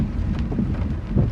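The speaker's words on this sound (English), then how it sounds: "That's the windshield wipers you guys hear." Car windshield wipers sweep across the glass in the rain while driving, heard as a steady rushing wash of rain and road noise with soft, dull swipes; no voices.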